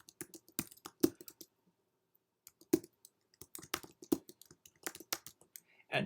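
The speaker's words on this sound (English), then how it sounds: "I'm typing on message like welcome" Irregular bursts of clicking keystrokes on a computer keyboard, close and crisp, with short pauses between runs of typing and no talking.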